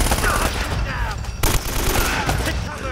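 An enemy fires in Uncharted: Drake's Fortune, giving a loud, dense burst of rapid gunfire with crackling shots and ricochet-like whines running throughout, one sharper blast in the middle.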